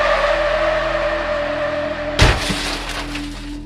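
A car crash hits with a sudden loud impact and shattering glass, followed by tinkling debris and fading scrapes after a steady engine drone, close and alone without voices.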